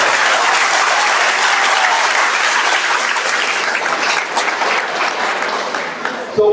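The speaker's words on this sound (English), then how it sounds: "a big round of applause for all the folks" Sustained, dense clapping from an audience at a community education council award ceremony, loud and steady for several seconds before easing slightly near the end.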